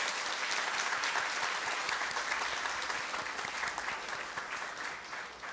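Steady applause from a large audience at a Pusan National University president's farewell ceremony, dense and sustained throughout before tapering slightly at the end.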